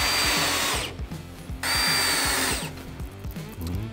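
Power drill driving pan head screws into a wooden tabletop: three loud bursts of whirring motor with a rhythmic chattering grind, separated by short pauses, close and alone with no talk.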